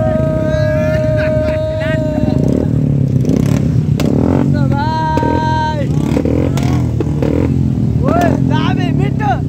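Motorcycles at a bike rally rev up repeatedly, their engines rising and falling loudly nearby, mixed with people talking and calling out over the steady road noise.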